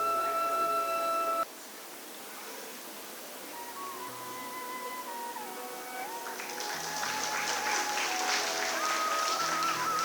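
A school event audience bursting into applause, dense clapping that swells and keeps going, with electronic beeps and tones sounding over it.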